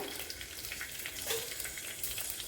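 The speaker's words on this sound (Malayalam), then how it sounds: "ഇനി ഒരു കാൽ ടീസ്പൂൺ ഉലുവ ഇട്ട് കൊടുക്കുക" Fenugreek seeds and mustard seeds sizzling in coconut oil in a Kerala kitchen, a steady bright hiss of frying with small crackles, close and continuous, no talking.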